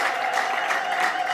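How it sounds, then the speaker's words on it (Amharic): A church congregation at a testimony service claps steadily and evenly throughout, a dense sustained wash of hands with no voices rising above it. "ጭብጨባችሁን እባካችሁ።"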